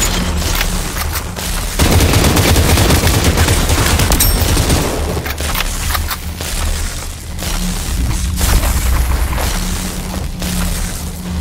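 Rapid gunfire bursts and booms ring out in the Population: One video game during a rooftop firefight, loud and dense throughout with sharp repeated shots.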